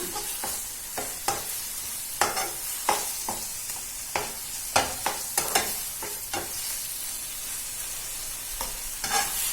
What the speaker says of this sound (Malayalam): ആ തൈര് ഒഴിച്ചു കൊടുത്ത് അതൊന്ന് നന്നായിട്ട് ഒന്ന് മിക്സ് ചെയ്ത് കൊടുക്കണം.